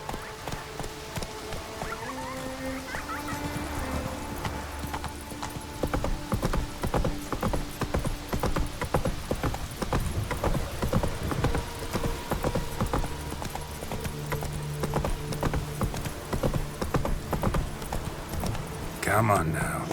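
Hooves clip-clop steadily as a horse gallops in The Witcher 3, a continuous rhythmic beat under game music and ambience, with a brief call to the horse.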